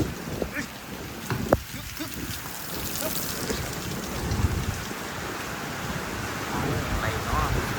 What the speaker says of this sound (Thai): นี่ฝนนะครับ ฝนครับ